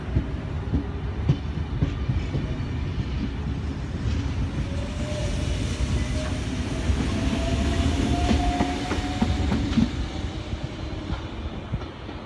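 A train departing platform 1 at Carlingford station in Sydney rumbles steadily nearby for the whole stretch, wheels clattering over the rails, with a thin rising whine building as it gathers speed.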